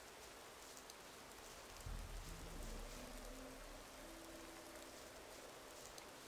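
Steady rain falling in the video game Gothic 2, a soft continuous hiss throughout, with a low rumble swelling briefly in the middle.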